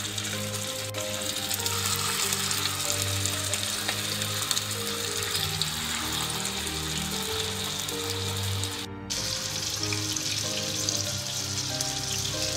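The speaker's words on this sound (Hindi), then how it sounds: "अब इनको फ्राई करते हैं। यहाँ ऑयल गर्म हो रहा है, इस ऑयल के अंदर" Beef seekh kebabs frying in hot oil, a continuous dense crackling sizzle heard close and steady throughout with faint clicks, no talking.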